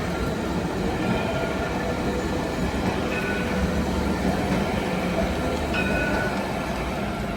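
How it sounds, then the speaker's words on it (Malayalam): A light rail train rumbles steadily past close by in Jerusalem on a rainy night, a continuous broad roar with faint metallic squeals and rail clatter throughout, no voices. "ഇവിടുത്തെ ലൈറ്റ് ട്രെയിനാണിത്"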